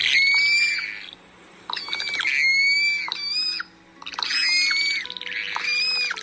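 Swallow-tailed gull gives loud, harsh alarm calls in several bursts, each a cluster of squawking, rattling notes separated by brief pauses, close and clear with no talking.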